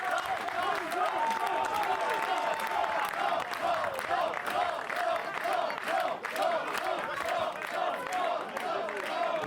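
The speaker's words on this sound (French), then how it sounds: "il mérite des applaudissements des photographes" Photographers applauding and calling out at a Cannes film festival photocall: continuous clapping mixed with a rowdy crowd of shouting voices, steady and fairly loud throughout, with a sustained tonal sound running under it.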